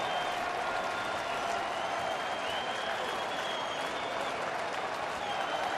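Dense, steady roar of a stadium crowd of more than 45,000 cheering and applauding at a Tigers home opener baseball game against the Red Sox, continuous and loud throughout with no break.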